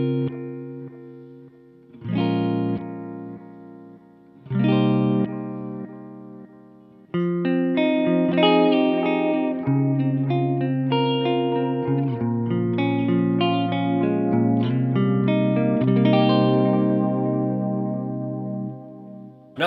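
Electric guitar played through an Ibanez Echo Shifter delay pedal: a few single notes and chords ring out, then a flowing run of notes trailing soft modulated repeats, clear and sustained with no talking.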